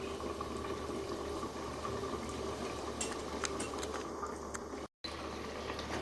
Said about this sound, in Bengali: এবার আমি ঢাকা দিয়ে মাছটা সিদ্ধ হতে দেব